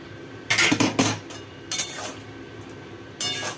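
Cooking pot taken off a gas stove, sharp metallic clanks and scrapes of pot against the burner grate in three separate bursts, with quiet pauses between and no talk.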